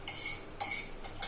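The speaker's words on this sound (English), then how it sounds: "we're gonna add the palak paste into it." Spinach palak paste meets hot oil in a pan, giving short bursts of bright sizzling and spattering in two or three quick surges, close and clear with no talk.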